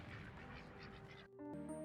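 Goose honks and quacks from the video game Tingus Goose, heard faintly as a brief burst of cartoonish bird calls with a quick tonal jingle at the end.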